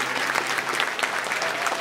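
Audience applause breaks out during a Nepali church sermon, a dense, steady patter of many hands clapping at close range for the whole stretch, with no voices over it.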